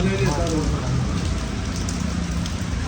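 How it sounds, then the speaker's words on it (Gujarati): Heavy rain pours down in a dense, constant hiss, with a voice briefly audible at the very beginning. "વરસાદ ચાલુ થઈ ગયો છે ફૂલ"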